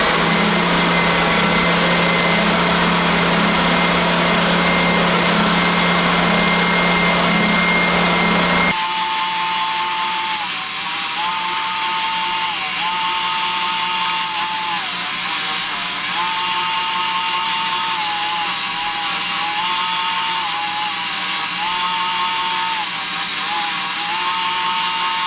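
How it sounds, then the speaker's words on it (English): An oscillating belt sander grinds epoxy-coated edges of 12-inch Darkstar fins, a steady high whine with rhythmic dips as the workpiece presses against the belt, loud and close, after a different steady machine drone at the start. "We'll just put it on the oscillating belt sander and go."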